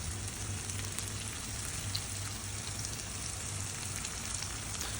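Shallots, tomatoes and green chillies fry in a pan for a Kerala-style shrimp roast, a steady soft sizzle and crackle that runs unbroken and fairly quiet, with no talking.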